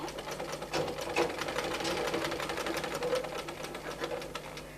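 Sewing machine stitching a baby's half pants, a close, rapid rhythmic chatter of the needle running steadily throughout.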